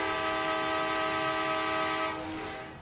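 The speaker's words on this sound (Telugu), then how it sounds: "ప్లాట్ఫామ్ నెంబర్ వన్ పైకి ట్రైన్ అయితే వచ్చేసింది" A train in the Indian Bikes Driving 3D game pulls up to platform one, its horn blaring in a long, loud, steady tone that fades out toward the end, with no talk over it.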